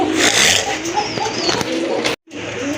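Golla (fancy round) pigeons, a pair of sky-blue birds offered for sale, cooing close by over a busy, scraping background, with a brief dropout near the end.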